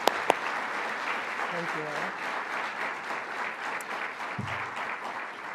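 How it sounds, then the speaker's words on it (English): An audience at a public event in the Bronx applauds steadily, a dense wash of clapping that continues throughout while a voice briefly speaks over it. "please, another round of applause for Kathy for coming to the Bronx for that."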